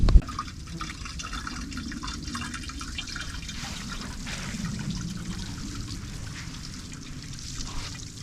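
Water from a garden hose trickling and splashing steadily outdoors while plants are watered at an off-grid cabin, a soft continuous patter that stays even throughout with no voices.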